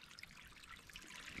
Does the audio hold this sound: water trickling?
yes